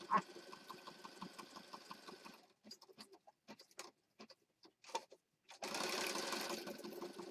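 A sewing machine stitches a junk journal in rapid, even runs of mechanical clatter, stopping and starting with short bursts and pauses between, then settling into a steadier buzz, fairly close and moderately quiet.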